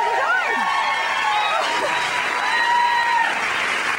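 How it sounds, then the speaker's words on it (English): A studio audience applauds the Bouncing Bulldogs, a Double Dutch jump rope team from Chapel Hill, North Carolina, with steady clapping. Whistling, cheering tones ride over it and continue evenly throughout. "give a round of applause to the Bouncing Bulldogs"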